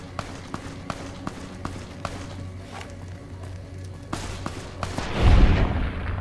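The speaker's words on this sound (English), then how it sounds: "I heard gunfire." Rapid bursts of gunfire crack in a steady rhythm in the video game Fallout: Tale of Two Wastelands, followed by a louder, rumbling blast near the end, all at moderate volume without talk.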